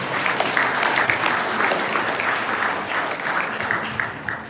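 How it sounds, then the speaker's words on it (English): Conference audience clapping, a full, even burst of applause that stays loud and dense and only eases slightly toward the end. "If you're going to clap, go clap."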